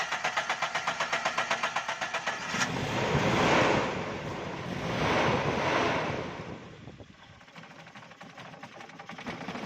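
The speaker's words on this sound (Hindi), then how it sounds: "सबसे पहले गाड़ी को स्टार्ट करेंगे जी।" A car running poorly on CNG gas starts up, its engine idling roughly with a steady vibrating drone and an uneven, surging rumble, close and fairly loud.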